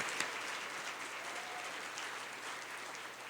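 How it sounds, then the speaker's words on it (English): Soft, steady clapping from a group at a food-industry talks event in Denver, heard faintly and at a distance throughout. "let's give a separate round of applause"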